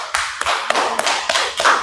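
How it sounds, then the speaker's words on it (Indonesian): A class of students claps in applause for a student group, a brief burst of fairly close hand claps with a few louder individual claps standing out. "Tepuk tangan untuk kelompok 4."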